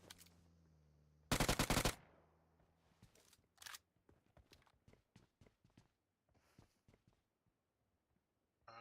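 Automatic gunfire in the mobile battle royale game PUBG Mobile: a loud rapid burst, then a quick single shot, then a long sequence of quieter, distant, evenly spaced shots trailing off.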